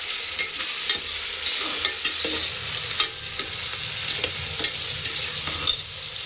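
Tomato stirred and fried in a pan for a pumpkin palya, a steady sizzle broken by regular scraping clicks of the spatula, close and alone with no voices.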